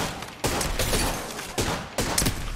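Bursts of gunfire in the Apex Legends video game, three loud rapid volleys at irregular gaps, each a dense crackle of shots over steady game ambience.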